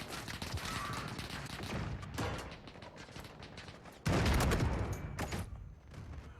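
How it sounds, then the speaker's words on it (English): Rapid gunfire and explosions from a Modern Warfare match, including stun and grenade blasts, with dense bursts of shots and a heavy boom near the middle, loud and close. "There's a stun and a grenade!"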